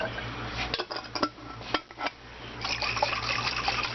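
Water splashes into a pan of spicy hot sausage with peppers and onions, followed by scraping and clinking of a utensil against the pan as it is stirred, close and fairly quiet.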